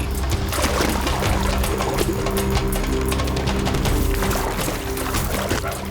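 A large crocodile thrashes in water after catching a wallaby: heavy, continuous sloshing and splashing, loud and close, churning steadily throughout with no voices.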